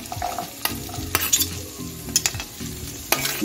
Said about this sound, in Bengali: গাজরটাকে একটু নাড়িয়ে নিচ্ছি।